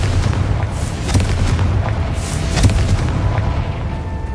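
Confringo fire spell in Hogwarts Legacy gameplay: loud booming explosions with several sharp blasts and rumbling debris over a dense, continuous battle din, no speech.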